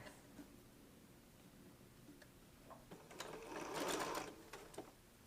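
A sewing machine pieces quilt fabric with one short, fairly quiet burst of stitching over faint background noise, set among softer mechanical clicks.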